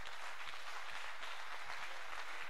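A church congregation applauding God during a service, a continuous mid-distance wash of clapping that holds steady without a break.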